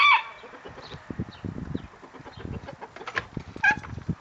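Farmyard chickens cluck in soft, scattered bursts close by, with a couple of higher calls near the start and end and light background noise.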